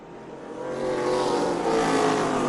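ARCA Menards Series race cars on the final lap of the Dutch Boy 100 at the Illinois State Fairgrounds dirt mile in Springfield, engines swelling louder as they roar past close by.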